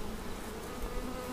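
Dense, continuous buzzing of many honey bees close by at an apiary, a steady humming drone with no voices.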